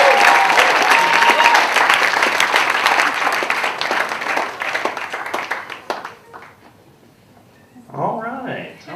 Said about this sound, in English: Everybody, give a big round of applause for Mark Norman